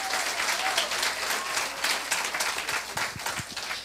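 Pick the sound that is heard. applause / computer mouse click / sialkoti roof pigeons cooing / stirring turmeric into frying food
applause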